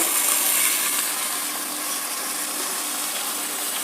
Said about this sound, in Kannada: ಇದಕ್ಕೆ ಒಂದಕ್ಕೆ ಎರಡಷ್ಟು ನೀರು